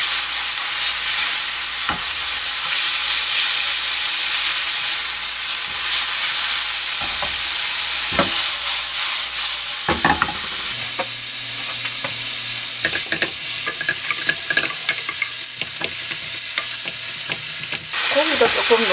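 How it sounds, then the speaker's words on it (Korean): Ground meat for mapo tofu is stir-fried in a pan. A loud, steady sizzle continues throughout, with scraping and stirring clatter from the spatula and a brief change in tone midway. "고기도 조금 노릇하게 맛있는 냄새 날 때까지 좀 볶을게요."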